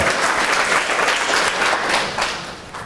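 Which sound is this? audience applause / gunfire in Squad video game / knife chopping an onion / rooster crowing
audience applause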